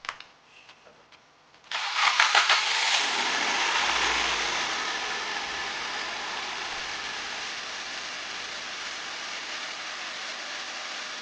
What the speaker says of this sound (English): the engine's running a bit rough right now. It sounds like a slight misfire.